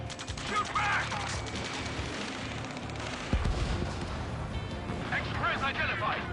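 Battle gunfire in the video game Ace Combat 7, rapid crackling shots and a sharp bang mixed with urgent shouted voices and mechanical clatter, fairly loud throughout.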